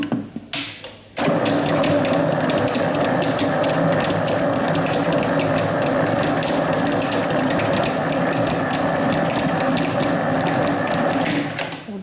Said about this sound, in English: so we need to blend it up again and then turn the speed up